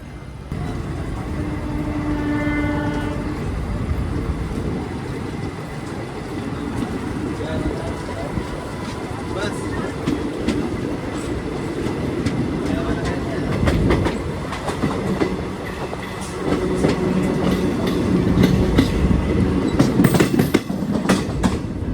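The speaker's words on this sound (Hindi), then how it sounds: "2 मिनट के निर्धारित ठहराव के बाद ट्रेन अब बालामू जंक्शन से निकल चुकी है।" Rajya Rani Superfast Express passenger train pulling out of Balamau Junction on the Lucknow–Meerut route in heavy rain, with steady rumbling wheel and carriage noise that swells toward the end; a few faint tones early on, no voices.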